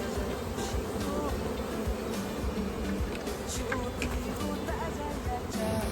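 Honeybees hum at a hive, a dense continuous buzzing that stays steady and fairly close throughout, with no talk over it.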